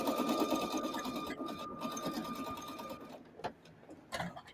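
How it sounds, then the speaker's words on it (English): A Singer heavy duty sewing machine with a quarter-inch foot stitches steadily at a fast, even hum for about three seconds, then stops, leaving a few faint knocks. "For those of you who have this Singer heavy duty machine"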